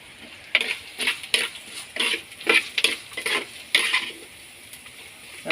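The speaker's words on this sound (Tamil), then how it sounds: "இந்த வெங்காயத்தோட போட்டு அதையும் சேர்த்து வதக்குவோம்" Onions and fenugreek seeds sautéing in a pan for an egg and drumstick curry, with repeated stirring scrapes and a light sizzle in short bursts, close up and without talk.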